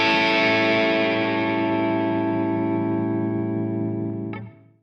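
A single sustained guitar-style dominant seventh chord, played on an Ableton Push 2 and built from the root, flat seventh and third, rings with an effected, slightly distorted tone. It holds steadily for about four seconds, then cuts off quickly.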